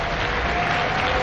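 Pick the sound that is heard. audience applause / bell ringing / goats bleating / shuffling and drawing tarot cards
audience applause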